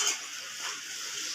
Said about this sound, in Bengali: ও বাবা মাসি ভাজছে লুচি